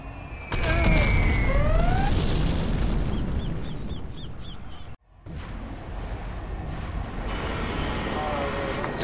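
A sonic boom from a supersonic aircraft in Command & Conquer Generals Zero Hour, a loud, rumbling broadband blast with swooping tones that cuts out briefly near the middle and then roars back amid ongoing battle noise.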